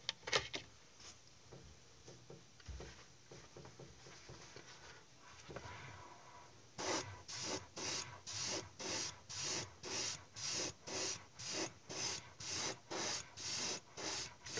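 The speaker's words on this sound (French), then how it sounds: "On va appliquer la couche de primaire blanc." White primer spray-painted onto a Heller Canadair plastic model kit in short, even hissing bursts, about a dozen regular puffs following a quieter stretch of faint handling noise.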